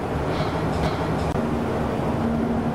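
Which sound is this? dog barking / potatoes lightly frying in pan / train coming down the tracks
train coming down the tracks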